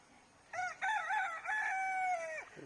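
A rooster in a garden orchard where chickens forage for insects crows once up close, a clear drawn-out call that rises and then trails off, with no other sound around it.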